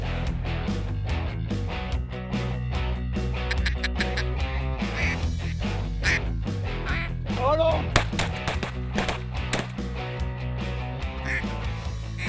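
Hunters blow duck calls, a rapid run of close, loud raspy quacks and chuckles from more than one caller, layered over a constant low engine-like drone.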